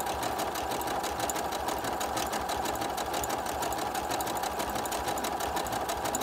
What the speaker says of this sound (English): And stitch about an inch.